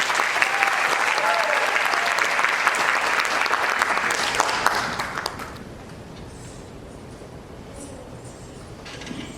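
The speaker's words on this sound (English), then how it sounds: "Another round of applause, please." An audience applauds at a Bharatanatyam dance Arangetram ceremony, loud sustained clapping for about five seconds that then fades into quieter room noise.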